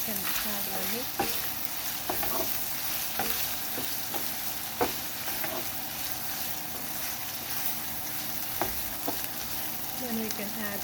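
Pork chop meat fries in a pan for Filipino menudo, a steady close sizzle punctuated by repeated sharp clinks and scrapes of stirring against the pan.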